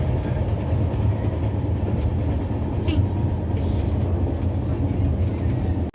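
A steady, loud rumble and rattle of a moving train carriage on a journey to Puri fills the whole stretch, with faint clatter from the wheels on the track.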